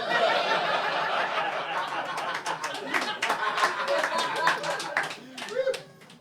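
Comedy club audience applauding, a dense wash of clapping that carries steadily through the whole stretch with scattered chuckles mixed in, then thins out and fades near the end.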